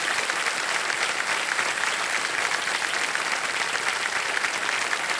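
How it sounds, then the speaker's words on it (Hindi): Loud, steady studio audience applause on the Indian quiz show Kaun Banega Crorepati, thick continuous clapping filling the whole stretch with no talk over it. "जोरदार तालियां बज जाए इनके लिए"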